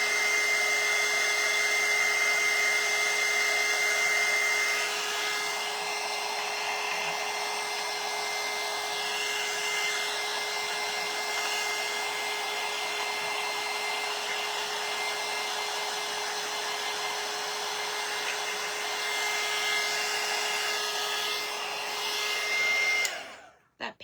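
A hair dryer blows steadily on painted wooden craft hearts, a constant whirring hum with a high tonal whine that runs unbroken for about twenty-four seconds, then cuts off abruptly at the end.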